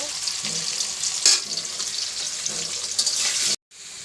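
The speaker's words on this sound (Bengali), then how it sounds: "আলুর মধ্যে হালকা হলুদ দিয়ে দেব, আর লবণ দিয়ে ভাজবো।" Potatoes frying in oil with turmeric and salt, a loud, dense sizzle with bursts of stirring, steady for several seconds before cutting off abruptly near the end.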